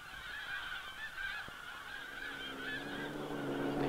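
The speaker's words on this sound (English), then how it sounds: "Geese are international air travelers, without need for passports or customs formalities." Snow geese honk in a continuous chorus, many overlapping nasal calls rising and falling, fairly close and growing slightly louder toward the end.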